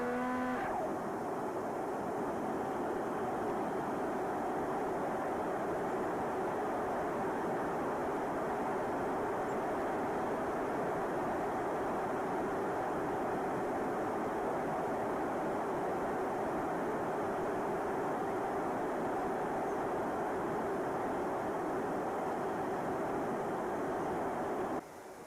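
A small 3D printed Rifter FPV cruiser model plane flies steadily on its first flight, its motor droning continuously at a fairly constant pitch for the whole stretch, with no talk.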